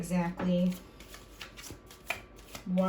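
Tarot cards being shuffled by hand, several quick riffling bursts and soft slaps close by, with a voice speaking between them.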